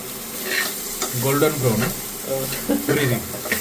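Onions for puliyogare fry in a pan until golden brown, sizzling steadily close by while a spoon stirs them, as a person talks over the cooking.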